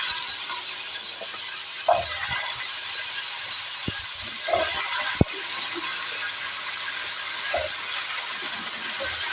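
Cut potatoes frying in hot oil in a pan give a steady, bright sizzle throughout, with a few soft taps and one sharp click of a utensil. There is no talking.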